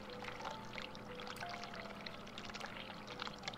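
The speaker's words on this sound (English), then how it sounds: "I turn on the hot water, right?" Hot water running from a tap in the video game The Cat Lady, a steady, close pouring rush that continues evenly from start to finish.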